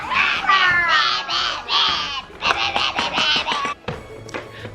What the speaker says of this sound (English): Sorry that my kids are always really loud in the background,